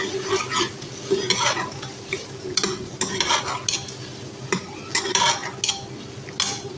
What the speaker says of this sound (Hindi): चम्मच चलाते रहेंगे इसमें।